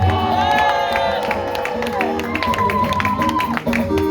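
A church congregation cheers with cries of joy, giving a loud, dense crowd roar with shouts and some clapping. Voices rise over one another throughout.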